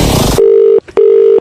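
A loud, steady landline tone holds for about half a second, breaks off with a short click, then starts again for another half second. It comes right after a burst of noise, while a man sets up a prank phone call.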